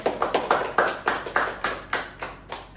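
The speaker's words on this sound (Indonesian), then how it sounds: "tepuk tangan buat Kakak Diki." A small group claps in a steady, moderately paced rhythm, each clap distinct and fairly close, with no voices over it.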